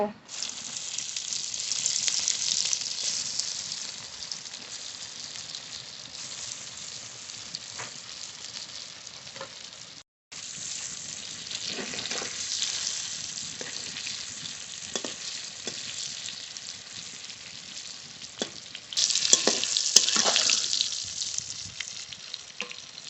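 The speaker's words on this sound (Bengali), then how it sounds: "এবার ধোকাগুলো ভেজে নেব" Dhoka, lentil cakes for a cauliflower dhoka curry, fry in hot oil with a steady, loud sizzle that runs throughout, briefly breaks off, then swells again near the end as the pieces are stirred.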